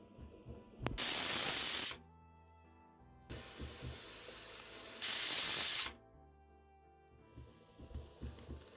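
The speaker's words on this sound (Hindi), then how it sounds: "तेज आंच पर 2 सीटी लगने तक पकाएंगे।" A pressure cooker full of mutton korma on high heat lets off loud, sharp steam-hiss whistle bursts, two strong ones about a second long with a softer sustained hiss between them, near and alone.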